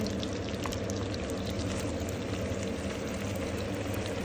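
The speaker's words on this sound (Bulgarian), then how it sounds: "В момента, в който се разтопи, преди да се запържва, изсипвам тия мидички" Mussels tipped into melted butter in a pan, a steady dense sizzle and bubbling hiss that stays loud and even throughout with no talk over it.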